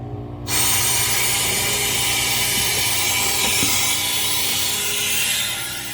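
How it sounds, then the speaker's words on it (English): A loud, steady hiss of air rushing out of a Harvest Right freeze dryer's valve as pressure releases, starting suddenly and continuing evenly with faint mechanical clicks beneath. "just open that valve and you'll hear the air pressure release"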